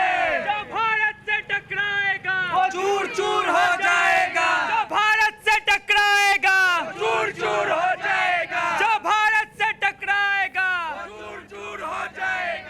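A large crowd at a Vishwa Hindu Parishad celebration chanting slogans in loud rhythmic unison, a lead voice calling and many voices answering in repeated bursts, close and continuous.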